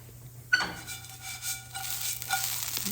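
Hash browns frying in a pan with a steady close sizzle, a sharp clink of a utensil near the start, then continued crackling and light stirring scrapes.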